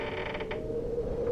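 A door creaks slowly open as a horror-story sound effect, a drawn-out close creak with a wavering, groaning pitch that holds for over a second with no speech.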